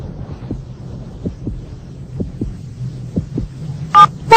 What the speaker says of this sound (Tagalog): Hindi nagbago ang tibok ng puso niya mula nung huling pagkikita namin.